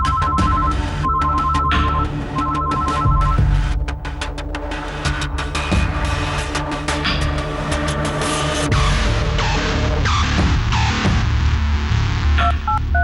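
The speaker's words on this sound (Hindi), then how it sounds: "थानेदार को आया सीधा योगी जी का फोन" Telephone ringing with repeated electronic ring bursts over a dense, loud background of music and noise, the call tied to a police station officer receiving a phone call from the chief minister.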